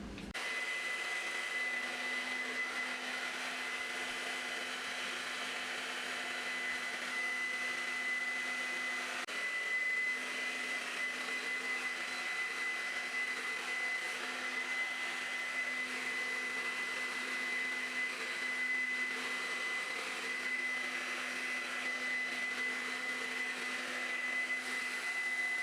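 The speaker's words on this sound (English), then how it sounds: "I'm basically just going to blow dry my hair for 5 minutes" A hair dryer blows steadily on a warm setting while drying hair for a wash-and-style routine, giving a continuous close whirring hum with a faint high whine that lasts the whole time and has no talking.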